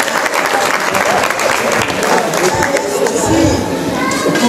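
Church congregation applauding loudly and steadily throughout, a dense wash of clapping with some crowd voices and chatter mixed in.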